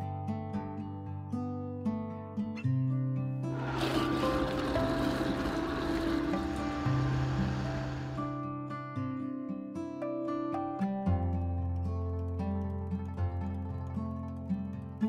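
A blender grinds scalded soaked soybeans with water for homemade soymilk, a loud roaring whir lasting about four seconds that rises over quieter background music, which plays on before and after.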